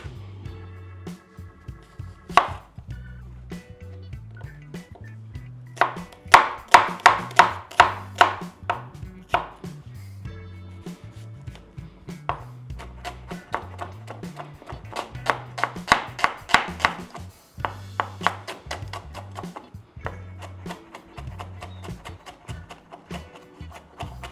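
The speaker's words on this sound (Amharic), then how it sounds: "በቅድሚያ እንግዲህ ሽንኩርት እንከትፋለን።" Onions are chopped on a board with a knife in long bursts of rapid, crisp, close taps, pausing briefly between runs over a quiet background hum, with no voices.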